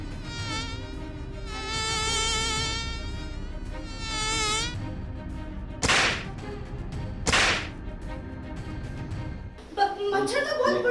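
In a TV serial, a playful slap on the cheek comes as two sharp, whip-like cracks a second or so apart, set among buzzing, whining insect-like tones and busy dramatic sound.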